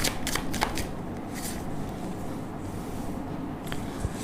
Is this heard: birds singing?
no